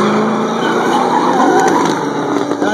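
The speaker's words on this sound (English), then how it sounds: "Now that V8 Power 240 out there in the yellow one, Giovanni." A yellow V8-powered Nissan 240 drift car at a Stunt Wars drifting event, a loud sustained tire squeal and skid over a roaring engine, continuous and intense throughout with no talking.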